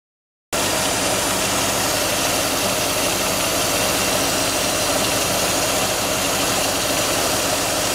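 A Chevrolet 305 TPI V8 in an IROC-Z idles steadily after a brief silence, a loud, even rumble that holds unchanged to the end.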